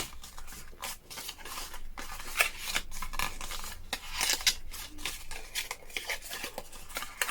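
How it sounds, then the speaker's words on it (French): Close, crisp paper rustling and creasing as the small flaps of a handmade paper box are folded along scored lines, with repeated quick scraping strokes and crinkles at an uneven rhythm. "on vient plier les petits rabats. On vient tout plier sur nos traits."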